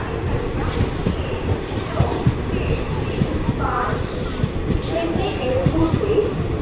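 The 16128 Guruvayur Chennai Express, heard from inside an AC three-tier coach as it pulls into Vriddhachalam Junction, gives off a steady, loud rumble of rolling wheels with occasional high metallic squeals.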